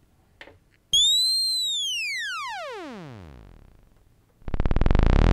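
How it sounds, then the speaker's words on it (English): Arturia MicroFreak synth with a sine wave LFO modulating pitch, a pure tone that swoops up and then glides down slowly, then a new bright tone starts, heard alone after a couple of faint clicks. "Currently, we have it set to a sine wave, and that's what you're hearing."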